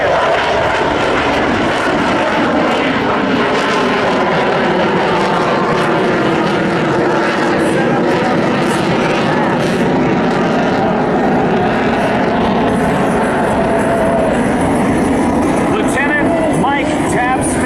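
An F/A-18 Super Hornet flies a 360-degree high-G turn at the Jones Beach Air Show, its loud jet roar sustained and swelling throughout, with an announcer's voice running underneath.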